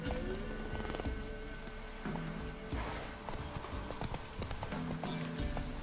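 Roach, the horse in The Witcher 3 video game, trots with steady rhythmic clip-clop hoofbeats that stay close and clear throughout, with a short whinny and faint game ambience behind.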